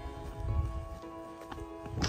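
A Camargue horse's hooves clip-clop in a short steady run of light, fairly close steps over a low hum of background noise, with no talking.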